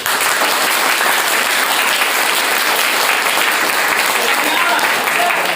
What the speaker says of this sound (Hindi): ताली बनता है दोस्त।